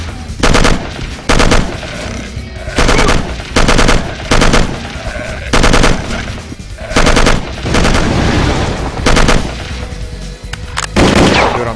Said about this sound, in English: Now use the machine gun.